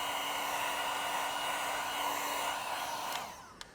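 Heat gun blowing hot air onto wrap film on a Tesla Model 3 Performance bumper, a steady close whooshing roar that cuts off near the end, no voices.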